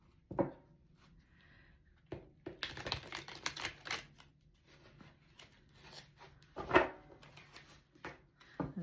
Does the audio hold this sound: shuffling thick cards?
yes